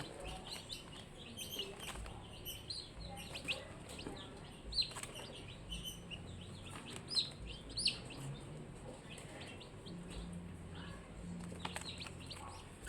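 Freshly hatched day-old chicks peep and cheep steadily in a group, a busy chorus of high chirps with a few louder calls standing out, close by with a faint background hum.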